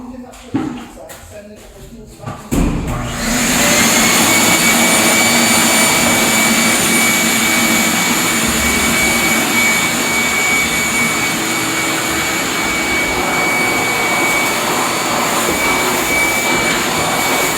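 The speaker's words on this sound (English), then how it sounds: "We need to use vacuum." A vacuum cleaner starts up during a floor installation with underlayment, then runs with a steady loud whine and rush, close by, after a few seconds of shuffling and handling noises.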